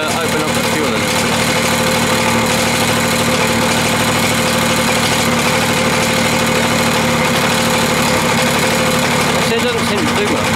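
A 1985 Yamaha PW80 motorcycle's small engine ticks over at a steady idle, close and constant throughout, while someone talks over it.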